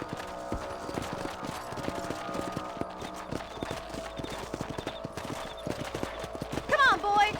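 Horses trot in the video game Red Dead Redemption, a steady clip-clop of hooves with mechanical tack sounds, while someone speaks over it and a brief horse whinny comes near the end.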